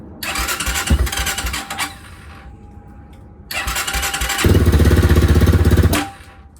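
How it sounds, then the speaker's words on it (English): A 2025 X-Pro Templar 250 motorcycle with a modified carburetor cranks and catches. A first burst of sputtering is followed by a quiet gap, then a second start that settles into a loud, steady, rumbling run close by. "see if we get this bike started now"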